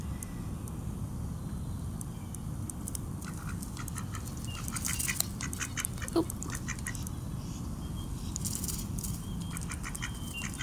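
Mallard ducks quack softly in an outdoor setting, with scattered short calls over a steady low background rumble and a few light pattering sounds.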